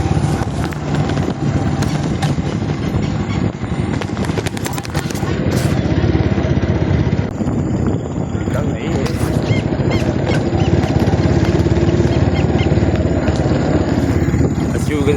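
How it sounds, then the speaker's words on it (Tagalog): A motorcycle on the move: a continuous engine drone mixed with wind buffeting, fairly loud and close throughout, with a rider talking at times over the noise. "kung makikita nyo nagdadrive ako motor"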